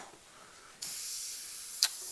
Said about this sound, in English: Always spray your brush, activate the air somewhere other than pointed at your project